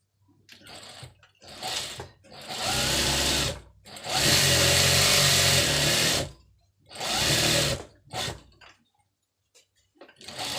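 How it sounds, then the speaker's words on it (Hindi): A sewing machine stitching the back panel of a pair of trousers, running in several loud bursts of rapid whirring that stop and start with short pauses between. "अब ये बैक पल्ले में सिलाई लगाना है।"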